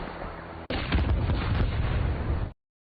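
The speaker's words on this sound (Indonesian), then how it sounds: "Alhasil bomnya meledak sebelum Detrus masuk." A rocket bomb blows up in a zombie film: after a short stretch of rumbling noise, a sudden loud blast hits and rolls on as a thick, booming roar for nearly two seconds before cutting off abruptly.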